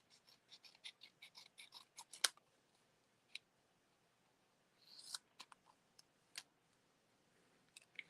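Scissors snip through paper during card making, a quick run of small crisp cuts followed by scattered isolated snips, quiet and close with no talking.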